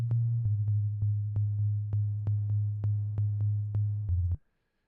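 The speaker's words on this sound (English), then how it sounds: "Playing the bass note, the root note of each chord, and it's just a sine wave" Plain sine-wave bass synth note from Serum, playing the root of each chord in a melodic house track, holding a steady low tone with a rhythmic volume envelope and soft ticks until it cuts off near the end.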